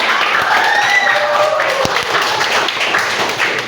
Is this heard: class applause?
yes